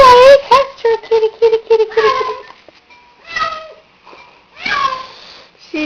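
A house cat meows repeatedly at close range: a rapid burst of short, loud cries, then several longer, drawn-out meows with pauses between them, and a person speaks briefly in between.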